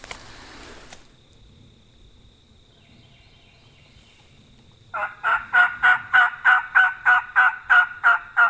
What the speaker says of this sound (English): Now, they were just gobbling when we got up.